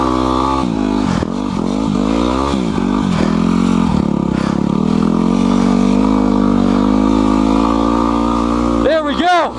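A Yamaha WR250R on Enduro tires riding through snow, its engine droning loud and close with rising and falling revs throughout and a brief sharp rev near the end.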